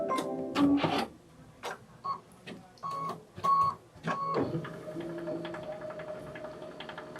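A sewing machine quilts fabric in short bursts of rapid mechanical chatter and clicking, pausing between runs, then settling into a quieter steady hum.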